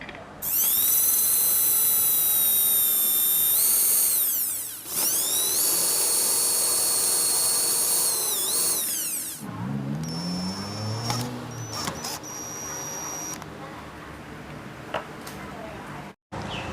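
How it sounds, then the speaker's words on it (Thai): A power drill whines loudly in two long bursts while drilling a pilot hole in wood, its pitch rising and falling as it speeds up and slows, followed by quieter clattering. "เดี๋ยวเราก็เจาะนำนะครับ"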